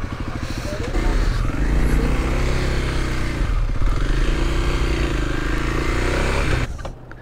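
Kawasaki KLX300 dual-sport motorcycle pulling away on a food-delivery run, a loud, close engine drone rising and holding steady for several seconds before dropping off, with some rattling underneath.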